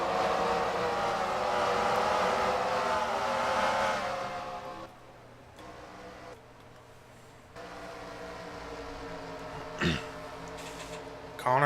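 Stock-car engines from a racing video game drone steadily as the field runs its single pace lap behind the pace car at Nashville, loud and sustained at first, then dropping to a quieter, more distant rumble.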